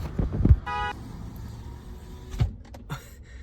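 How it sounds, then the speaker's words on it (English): A brief car horn toot sounds from a parked or slow-moving car when a hand rests on the steering wheel, a short nasal beep amid low cabin rumble and a couple of soft thumps. "I accidentally rested my hand on the steering wheel and tooted at the car in front of me"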